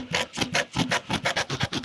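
Tyre plug reaming tool worked in and out of a puncture in a tyre: a rapid, rhythmic rasping scrape, about a dozen close, even strokes in under two seconds.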